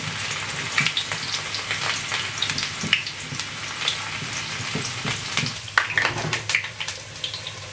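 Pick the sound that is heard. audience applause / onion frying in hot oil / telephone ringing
onion frying in hot oil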